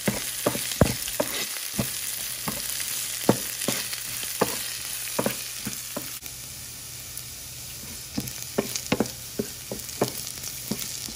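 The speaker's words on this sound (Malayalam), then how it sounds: "വറ്റൽമുളക് ഇതൊന്ന് മൂത്ത് മുരിഞ്ഞ് വരട്ടെ." Dried red chilies, along with green chilies, fry in hot oil with a constant close sizzle. Sharp pops and crackles burst through it irregularly, and no one speaks.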